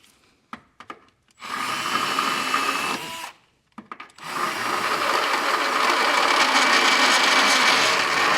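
A burr bit or die grinder bit enlarges an access hole in the frame of a 2023 Lexus UX 250h for a Curt trailer hitch install, running in two sustained grinding bursts, preceded and split by brief clicks and taps.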